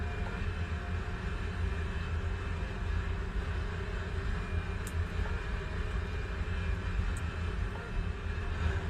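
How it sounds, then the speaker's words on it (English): AI surveillance aircraft circling slowly overhead in a video game, a steady low engine drone that holds level and continuous throughout, with faint brief clicks on top. "those ones circling the air slowly are AI, like surveillance aircraft"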